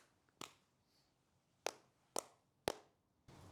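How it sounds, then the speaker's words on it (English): A few quick sync claps, sharp and close, one single snap followed after a pause by three evenly spaced claps, with a softer rustle at the end; no talking. "I just kind of want to do a quick sync clap"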